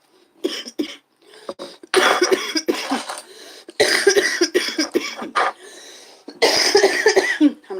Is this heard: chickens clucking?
no